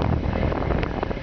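A 2002 Goshen Coach Workhorse 20-passenger bus idles with its diesel engine running, a close, steady low rumble heard alone for just over a second.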